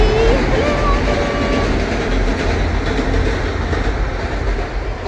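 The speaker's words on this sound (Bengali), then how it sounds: "এই যে ট্রেন যাচ্ছে।" A train rolls past a station near Khirai, its steady rumble and faint wheel clatter filling the scene at close range, with a brief high squeal early on and no clear talk over it.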